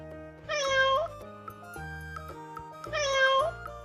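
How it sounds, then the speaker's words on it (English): A domestic cat meows twice, clear and close, each call drawn out with a rising then falling pitch, set over a soft instrumental backing track. "C for cat."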